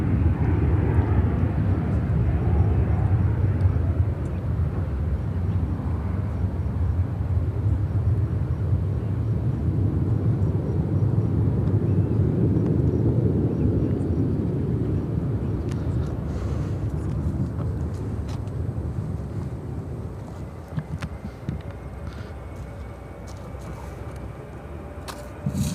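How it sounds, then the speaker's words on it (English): An American Airlines Boeing 737-800 takes off at Chicago O'Hare, its jet engines a loud, sustained broadband roar that holds steady for most of the span and then slowly fades as the aircraft climbs away, with no one speaking. "This is American Airlines 1602 taking off to LaGuardia on the 737-800."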